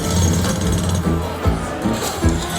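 A jackhammer sound effect from the Huff N Puff slot video game rattles in rapid repeated bursts, loud and close, with a few heavier thumps over a busy electronic background.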